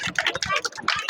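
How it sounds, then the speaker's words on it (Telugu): An audience at a Ganesh Chaturthi cultural event claps loudly in quick, uneven bursts of handclaps that fill the whole clip with no voices on top. "ఒకసారి గట్టిగా క్లాప్స్."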